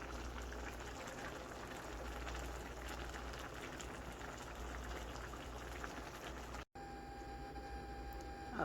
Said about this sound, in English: And my rice is cooking.